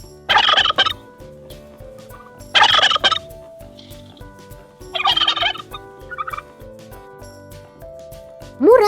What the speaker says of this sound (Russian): Индейка.